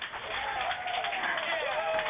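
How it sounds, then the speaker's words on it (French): Mission control staff applaud after the Perseverance rover lands on Mars, a dense, steady patter of clapping that sounds thin and slightly distant, with voices under it. "Ça va pas tarder à applaudir normalement."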